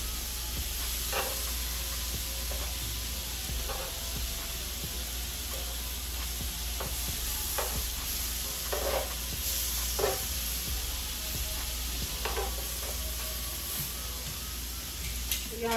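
Chicken and shrimp sizzling on a home griddle, hibachi style, a steady low hiss with a constant hum beneath and scattered scraping taps, moderately quiet with no talk.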